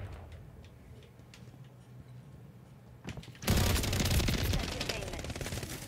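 SMG fire in Call of Duty Modern Warfare 3: quiet ticking and scattered shots, then a sudden loud, dense burst of rapid automatic gunfire that keeps going to the end.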